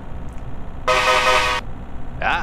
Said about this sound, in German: ich extra diese Hupe eingebaut, nur für euch